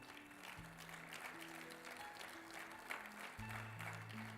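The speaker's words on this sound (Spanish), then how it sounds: "¿Cuánto le dan un fuerte aplauso al Señor?" A church congregation claps for the Lord during a Spanish-language sermon, the applause faint and distant beneath sustained keyboard tones.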